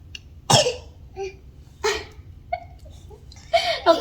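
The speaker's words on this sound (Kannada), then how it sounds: "ಕೆಮ್ಮು ಬರ್ತದೆ ಅದಕ್ಕೆ ಕೆಮ್ತಾ ಇದ್ದಾಳೆ" A young girl coughs in three short, close bursts spaced a second or so apart, with quieter breathy sounds between them.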